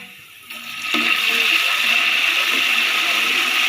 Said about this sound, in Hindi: अब हम इसमें 2 चम्मच पानी के ऐड करेंगे